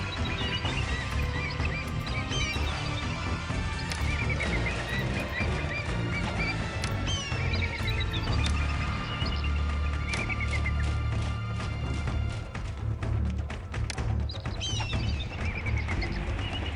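Horses neigh and whinny repeatedly with steady clip-clop hoofbeats in the game Pharaoh, set in a busy battle soundscape that stays loud and dense throughout.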